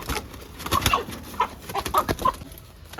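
Chickens cluck in short, scattered calls at a roadside spot in Palakkad, Kerala, moderately close, over a muffled background murmur.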